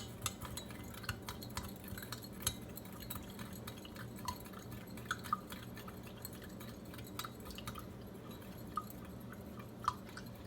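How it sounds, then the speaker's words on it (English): A spoon stirring sugar into a cup of water, quiet scraping swirls with scattered light clinks of metal against the cup, close and faint over a low background hum. "Let's stir and see if we can dissolve all that sugar."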